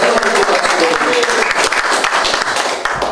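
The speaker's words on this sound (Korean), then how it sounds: "여러분 박수 한번 해주시면 얼마나 좋겠습니까?" An audience at a Korean commemorative speech event bursts into loud, dense applause that stays steady and close for a few seconds before tapering slightly.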